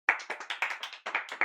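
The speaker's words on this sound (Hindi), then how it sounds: "बजाओ ताली।" A burst of hand clapping, about a dozen sharp claps in an uneven, lively rhythm, close and fairly loud with no talking.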